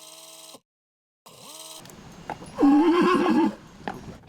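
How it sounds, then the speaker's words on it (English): A horse that fell through a bridge neighs loudly in a long whinny, followed by shorter broken neighs and snorts, close and clear with no talking. "removing a horse that had fallen through a bridge"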